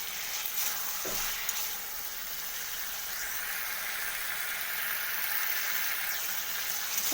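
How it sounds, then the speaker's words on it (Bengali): Fried sattu sizzles steadily in a hot pan as it is sautéed, a continuous soft hiss with occasional faint scrapes of stirring, fairly quiet and close, with no voices. "এরপর ভেজে রাখা ছাতুটা দিয়ে দিলাম দিয়ে ভালো করে আরও কষিয়ে নিলাম"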